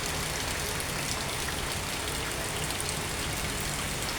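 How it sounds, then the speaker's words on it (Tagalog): Steady, dense rainfall from a tropical storm and monsoon rains, an even hiss of drops pattering on surfaces, loud and unbroken with no voices. "ayan, umuulan po"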